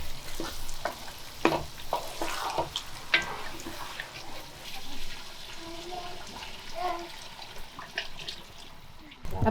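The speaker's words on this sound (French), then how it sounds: "Tout en remuant, il ne faut pas arrêter" Tomato and small vegetables stirred while frying for Senegalese red thieboudienne, with close sizzling and scraping stirs over a steady hiss, plus occasional clinks and a little background talk.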